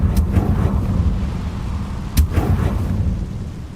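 A loud blasting-spell explosion in Hogwarts Legacy, one sudden booming burst rising out of steady rumbling ambience, with a fainter earlier thump.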